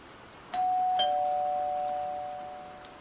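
A doorbell rings with two clear electronic tones, the second overlapping the first, then a long sustained ring that slowly fades. No one speaks.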